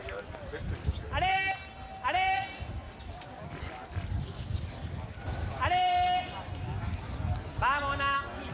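Sheep at a 2023 sheepdog trial bleat four times in loud, wavering cries spaced a few seconds apart, over a low rumble of shuffling hooves and faint voices.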